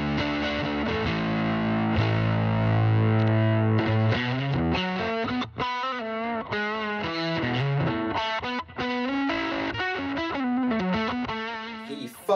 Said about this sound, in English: bassists love a fuzz tone, and being able to have some of that clean blend means you keep your bass, keep your dynamics